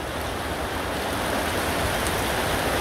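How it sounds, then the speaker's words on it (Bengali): Heavy rain with big drops falls in Jhenaidah as a dense, steady roar of broadband hiss, constant and fairly loud across the whole stretch, with no voices. "বৃষ্টির যে মোটা ফোঁট ইতিমধ্যে আমরা লক্ষ্য করছি"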